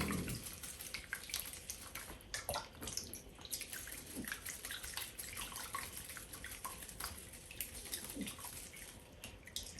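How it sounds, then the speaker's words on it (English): Water runs steadily from a tap over bonsai roots to rinse the soil away, a continuous close splashing flow with small drips and bumps throughout. "So I'm going to rinse that a couple of times."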